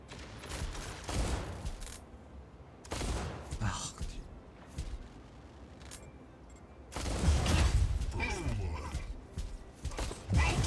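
Bursts of video game gunfire crackle in clusters with quieter gaps between them, loud and busy, mixed with game sounds and occasional talk.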